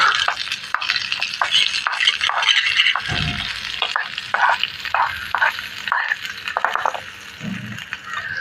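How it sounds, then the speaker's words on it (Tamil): Chopped onions and green chillies sauté in a small pan for a miniature-style cooking dish. A close, busy sizzle is broken by rhythmic scraping and stirring strokes. "கட் வெங்காயம் போட்டு நல்லா வதக்கு"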